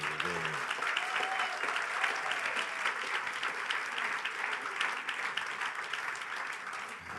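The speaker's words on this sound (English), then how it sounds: "If we just give him one more round of applause for him." A church congregation applauds during a Sunday service, with steady, full clapping from a large room that continues throughout and a brief voice near the start.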